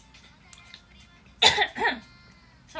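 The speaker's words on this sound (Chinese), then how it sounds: "对大家，我真的很想咳" Two quick, close coughs break out in succession over a quiet background during a livestream.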